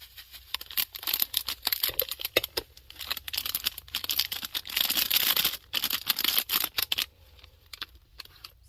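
Small foil paper craft sprinkles are squashed and crinkled by hand, giving close, crackly bursts of rustling that come in quick irregular runs with brief pauses.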